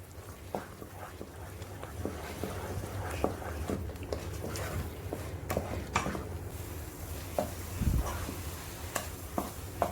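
Carrot-banana halwa is stirred and roasted in a pan, with soft scraping and scattered clinks of a spoon against the metal in an irregular rhythm over a low background hum.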